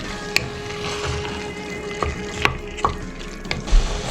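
Chopped onion frying in a pan for a quick red spaghetti sauce, a steady close sizzle broken by a few sharp crackles and stirring clicks.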